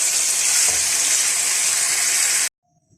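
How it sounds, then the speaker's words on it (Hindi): A few tablespoons of cooking oil sizzling loudly in a pan, an even bright hiss for about two and a half seconds that cuts off abruptly into near silence. "मैंने पैन के अंदर थोड़ा सा ऑयल डाला है, तकरीबन 3 से 4 टेबल स्पून।"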